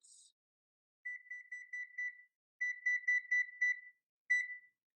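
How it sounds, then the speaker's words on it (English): A kitchen timer beeps in three quick bursts of short, high electronic pips. Each burst is a rapid run of beeps, and the sound is clear with silence between bursts. "So I'm gonna set the timer for 20 minutes."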